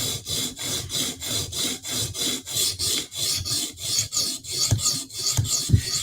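A knife blade is stroked back and forth across CBN sharpening stones, a steady, close rasping scrape repeated about twice per second in even rhythm, with no talking.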